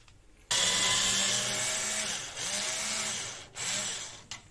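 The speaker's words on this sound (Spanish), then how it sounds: "vamos a desatornillar por ahí ese tornillito que tenemos ahí para sustituir esta pieza" A small screw is being unscrewed from a broken shower holder with a loud, whirring motorized driver that runs in three bursts, its pitch sagging and recovering under load.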